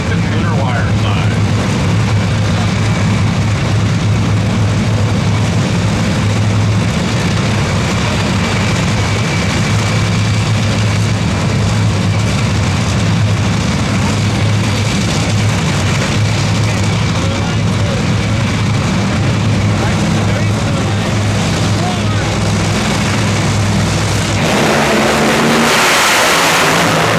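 Nitro funny cars at an NHRA Winternationals drag race qualifying pair, a loud continuous engine roar filling the track for the whole stretch, with a commentator talking over it and a sudden shift in the noise near the end.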